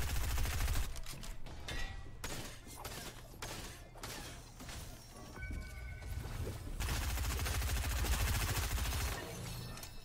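Automatic and rapid gunfire from a Fortnite match rattles in dense bursts, with sharp close shots and short pauses before another long sustained volley.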